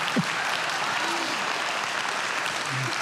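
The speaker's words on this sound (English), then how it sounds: "you can clap, it's all right" An audience at a motivational talk breaks into continuous applause, a dense steady wash of clapping that fills the whole moment without pause.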